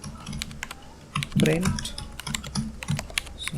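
Rapid clicking of keys on a computer keyboard while code is typed, steady and close, with someone speaking Hindi over the keystrokes partway through.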